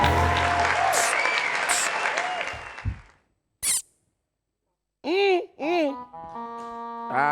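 Studio audience on a French-language TV show applauding the arriving guests, loud dense clapping and cheering that fades out after about three seconds, followed by short squeaky electronic tones and sparse noises.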